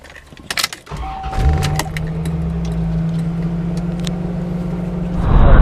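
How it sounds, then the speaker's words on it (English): A C4 Corvette with its targa top off and windows down cruises along, a steady engine drone and rushing wind filling the cabin after a few clicks and a brief whine, the wind growing louder toward the end. "Now I'm going to drive around with the windows down."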